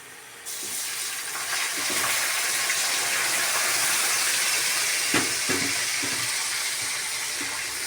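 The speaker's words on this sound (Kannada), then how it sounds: "ಇವಾಗ ಸ್ವಲ್ಪ ಹಾಲು ಹಾಕೋತೀನಿ ನಾನು" Milk hits hot frying rava for kesari bath in a pan, setting off a sudden loud, steady hissing gush that keeps going, with a few brief clinks and scrapes near the end.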